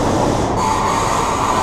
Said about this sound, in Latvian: Re, kur brauc mūsu vilciens